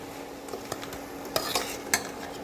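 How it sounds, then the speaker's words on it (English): Vegetables sautéing in a pan for a brinji rice dish, with a soft steady sizzle and several sharp stirring scrapes and clinks from a utensil, close and moderately quiet. "Now the vegetables are sauteed for a while."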